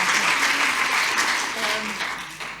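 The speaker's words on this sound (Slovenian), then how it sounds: "Super, zdaj jim lahko zaploskamo" An audience applauds at a conference session on self-care in the work environment, steady clapping that fills the short stretch and tapers slightly at the end.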